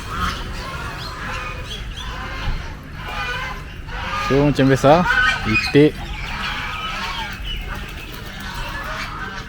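An ayam api chicken, grey with white spots, at an agropark in Padang Besar, Perlis, gives a few loud, harsh squawking calls in the middle, with people talking nearby over outdoor background noise.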